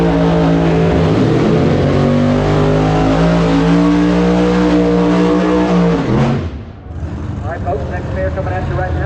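Drag racing cars at a Street Outlaws race, Bruce Camaro against Nate Taylor, roar loudly with a sustained rising engine note that cuts off sharply near the end before a quieter engine resumes; commentary talks over it.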